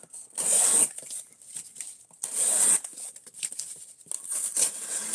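A cheap Amazon knife sharpened freehand on a sharpening block, bursts of rasping, scraping strokes separated by short pauses, close and fairly loud with no talk.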